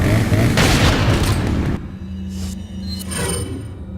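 A shotgun fires in a video game, a loud booming blast with dense rumble filling the first couple of seconds, then quieter clicks and mechanical reload sounds follow.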